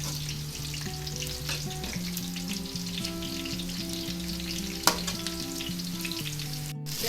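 Onions sizzle steadily in hot oil in a pan while cooking for Hyderabadi stuffed masala eggplant, with a continuous close frying hiss, an occasional stir scrape and background music, no talking.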